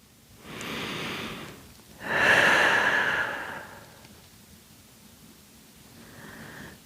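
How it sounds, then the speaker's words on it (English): Deep, slow breathing during a Pilates hip flexor stretch: a long inhale followed by a fuller, louder exhale, then quieter breathing, close to the microphone with no talking. "just focusing on the breathing. Nice big breaths."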